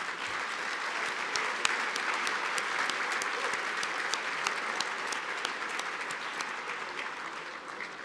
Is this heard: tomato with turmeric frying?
no